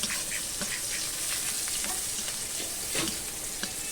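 Garlic and onion sizzle steadily in hot oil in a pan that already holds dried red chillies, with a constant close hiss and scattered small pops and spatters.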